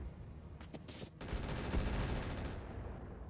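Weapon fire aimed at a wheeled APC in RogueTech, a quiet burst of rapid gunfire that comes after a few short bangs and rolls on steadily for about two seconds before fading.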